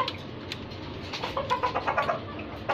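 Chickens and a rooster kept in a cage on a small farm, with soft cooing and clucking calls building into a cluster of close, moderately loud bird sounds toward the end, over a steady background murmur.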